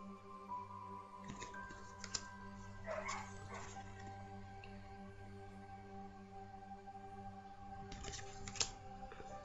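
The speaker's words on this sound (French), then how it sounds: "Désolée si vous entendez un peu des chiens brailler" Faint dogs yip and whine in the distance in a garden outside, in a few short bursts over a quiet background hum.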